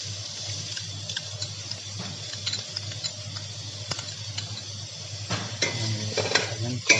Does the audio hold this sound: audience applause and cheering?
no